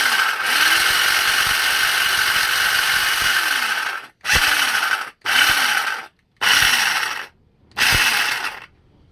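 A Black & Decker GT201 electric hedge cutter runs in loud, steady bursts: one long run followed by four short starts and stops with brief silences between them.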